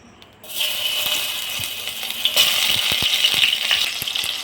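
Tomatoes dropped into hot mustard oil burst into a loud, bright sizzle that holds steady and close, with small crackles and spatters popping through it and no talk.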